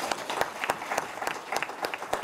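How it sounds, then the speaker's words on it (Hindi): Audience applause welcoming a health-show team at an event on HIV/AIDS, a steady burst of many hands clapping throughout, fairly close, with no talk over it. "बहुत तालियां बजा के हमारे टोटल हेल्थ की टीम का स्वागत करें"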